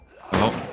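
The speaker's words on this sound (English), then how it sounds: "Oh, they grenaded us." Grenade blast in the trench-warfare game All Quiet in the Trenches: a single sudden, heavy thud-like burst after a near-silent moment, then a short fading rumble.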